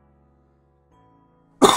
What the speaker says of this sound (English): cannot stop coughing